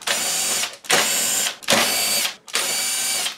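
Power screwdriver removing screws from the circuit board of a Sony SLV-740HF VCR, four steady whirring runs of under a second each, separated by short gaps, close and alone.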